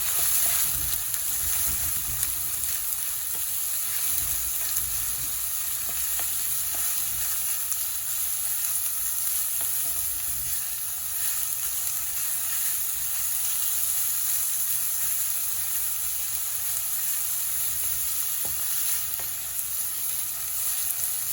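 Onion and green chilies fry in hot oil with a steady, close, continuous sizzle that holds evenly throughout, broken only by faint occasional stirring clicks and no talking.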